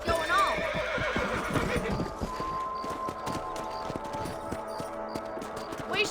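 Horse hooves clip-clop in a steady trotting rhythm in the video game Red Dead Redemption 2, with a whinny at the start and a voice speaking over them.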